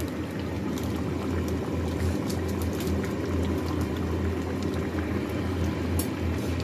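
A pot of potato and cauliflower curry boils hard, giving a continuous close bubbling and simmering hiss at a steady level throughout.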